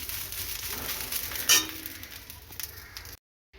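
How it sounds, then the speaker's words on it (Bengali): Coriander leaves fry in a pan with a soft, continuous sizzle. One louder hissing burst comes partway through, and then the sound cuts to silence. "ধনে পাতাটা একটু ছেলে ভাজছি টেস্ট হয় একটু বেশি"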